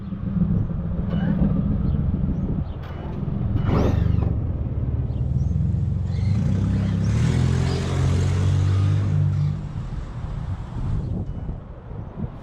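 A Tekno MT-410 RC monster truck runs on its first outing, its motor whining with a steady broadband roar and a rising and falling pitch, loud and close, with wind buffeting the microphone throughout.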